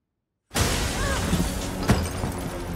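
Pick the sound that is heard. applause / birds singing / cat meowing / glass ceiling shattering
glass ceiling shattering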